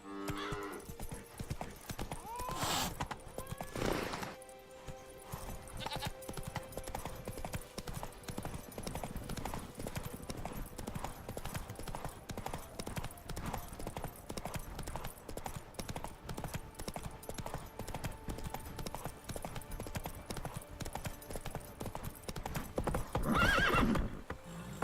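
Roach, a horse in the Witcher 3 video game, gallops with steady rapid hoofbeats throughout, with loud whinnying bursts near the start and end, no voices over it.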